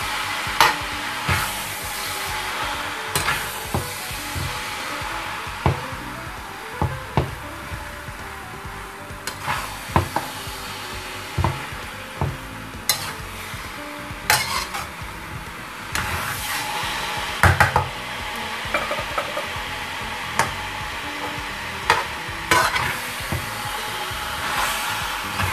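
Food being stirred in hot cooking oil in a big batch for British cottage pies, with a steady broadband sizzle and frequent sharp scrapes and clacks of the utensil against the pan, close and with no talking.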